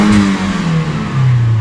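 A Daihatsu Terios engine revs hard toward 7000 RPM at quarter throttle, a short loud mid-pitched rise that climbs and then falls back, heard up close with no talking.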